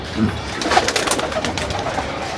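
Domestic pigeons in a home loft coo close by, one soft low burbling coo early on, with fainter cooing and light rustling continuing throughout.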